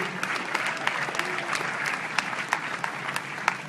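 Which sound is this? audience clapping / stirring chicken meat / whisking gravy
audience clapping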